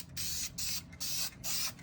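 A spray paint can applying a light coat to an old inline six-cylinder engine, hissing in four steady bursts of about a third of a second each with short gaps between, close and fairly quiet.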